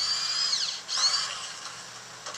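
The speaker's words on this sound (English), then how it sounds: "Have you ever used a drill like that before?" A power drill runs steadily with a high whine, briefly dipping and then spinning back up, close by and with no talking over it.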